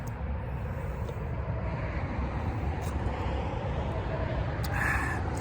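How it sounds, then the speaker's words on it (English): Steady road traffic noise near a hiking trail, a continuous broadband rumble of passing cars that stays loud and constant throughout, with a slight swell near the end. "Sorry about all the traffic noise"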